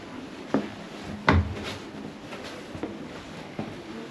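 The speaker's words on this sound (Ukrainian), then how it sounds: "які двері з таким засувом" A door with a bolt latch being worked: a few dull wooden knocks and clunks with one stronger thud, set against a steady background hiss.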